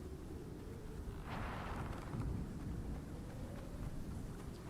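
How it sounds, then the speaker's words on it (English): Storm ambience in the survival video game Icarus: a steady low rumble of thunder and wind with a rain-like hiss, swelling briefly in the middle, continuous and fairly loud, no voices. "let's try to get inside before our storm really kicks off"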